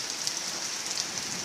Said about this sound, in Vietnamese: hôm nay trời nó mưa to lắm các bạn ạ